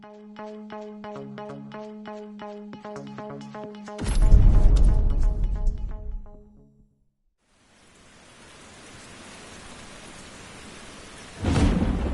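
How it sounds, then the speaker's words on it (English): A thunderstorm in a driving video game: a chiming musical jingle gives way to a loud rumbling thunderclap, then steady rain hisses, and a second thunder crash bursts in near the end. "Showcasing a car is one thing, but braving a storm in it is something else."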